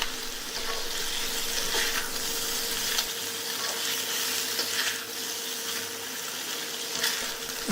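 Steady, dense sizzling of chicken frying in a hot wok, continuous and fairly loud throughout with faint scraping stirs now and then.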